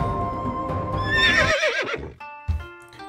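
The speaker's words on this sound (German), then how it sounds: "Das Pferd." Horse in a video game, a loud, close whinny rising and wavering, followed by a snort and a short clatter.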